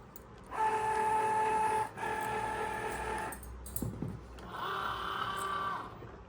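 A Cricut Joy cutting machine runs with a card loaded, giving two steady mechanical whirring passes with tonal motor hum, a brief clatter between them, then a third shorter run, close and moderately loud.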